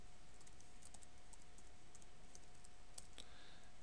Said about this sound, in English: I'll type in my username